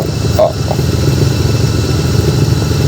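A motorcycle with no working brakes rolls down a rough, muddy back road, its engine a steady low drone throughout, close and loud, with a brief voice near the start.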